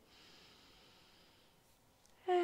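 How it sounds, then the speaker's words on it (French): A slow, deep breath pushed out through the mouth during a gentle at-home cardio warm-up: a soft, airy hiss lasting about a second and a half, then fading, before a sudden loud tone cuts in at the end. "Expire par la bouche."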